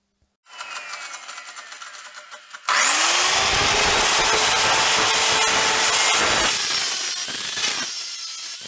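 Power saw cutting metal parts for a mini bronze cannon: a moderate buzz builds into a loud, sustained high-pitched cutting whine for several seconds, then eases off.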